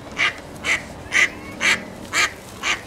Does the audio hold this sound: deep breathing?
no